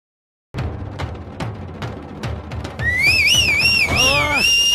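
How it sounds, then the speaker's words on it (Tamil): A person whistles loudly in a Tamil TV serial scene, with shrill rising and falling tones over background noise that grow stronger toward the end. "உன்னை விட நான் நல்லா விசில் அடிப்பேன், பாக்குறியா?"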